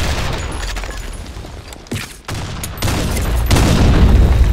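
Loud bursts of gunfire and booming shots in the BlackShot online shooter game, a dense, continuous barrage with a brief lull midway before heavier firing resumes.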